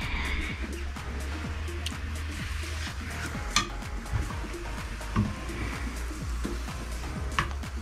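Food cooking in a pan gives a steady, close frying hiss throughout, with a few brief clinks of utensils on cookware.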